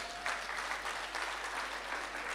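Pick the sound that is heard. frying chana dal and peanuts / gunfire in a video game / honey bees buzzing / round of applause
round of applause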